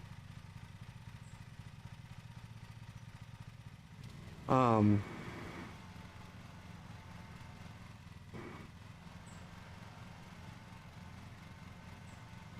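A riding lawn mower engine in the Lawn Mowing Simulator video game drones steadily throughout, with a brief louder burst of sound partway through and someone speaking over it.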